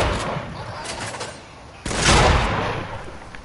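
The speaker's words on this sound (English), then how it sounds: "How many shots have been fired?" Gunfire in Fortnite: a few muffled shots ring out nearby, followed by a louder burst near the midpoint that fades into a lingering rumble over a noisy game backdrop.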